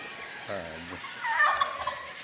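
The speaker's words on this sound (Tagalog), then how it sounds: "Pabo." Turkey gobbling once, a quick rattling warble close by, followed by faint bird chatter and background noise.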